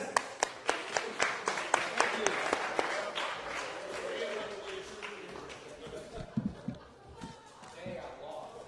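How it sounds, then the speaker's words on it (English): Audience applause for contestants at a high school fantasy draft event, a burst of sharp claps and thumps that fades into scattered clapping and crowd noise, with voices talking over it. "Round of applause for the contestants."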